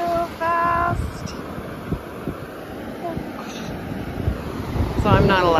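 Ocean surf washing in fast on a beach as the tide comes in, a steady broadband rush of water and wind buffeting the microphone, with brief voices and a child's call over the waves.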